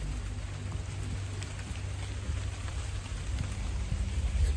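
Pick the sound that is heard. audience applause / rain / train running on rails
rain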